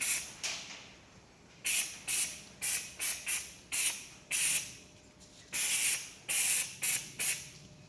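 A powder coating gun sprays matte black powder onto Toyota Glanza car parts and brackets in short repeated bursts, each a close, sharp hiss that trails off, about a dozen in a loose rhythm with quiet gaps between.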